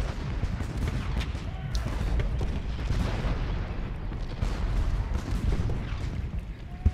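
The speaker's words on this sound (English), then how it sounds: "Got a lot of cannons going off right now." Continuous rumbling barrage of booms and cracks, heavy video game cannon fire layered densely with battle noise, loud and sustained throughout.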